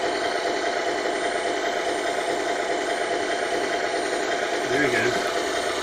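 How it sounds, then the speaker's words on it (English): A G.T. Power vibration motor for a model truck runs with a steady mechanical buzz and rattle close by. Someone speaks briefly near the end. "Now I'll show you this vibration motor."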